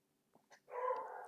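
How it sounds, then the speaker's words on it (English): A dog barks in a single drawn-out yelp after two short soft sounds, moderately close against an otherwise quiet background. "that was my dog"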